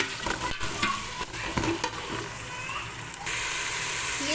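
Green chili, garlic paste and tomatoes sizzle steadily in a pan for a pulao masala, with scraping stir strokes and clinks of a spoon against the metal, close and continuous.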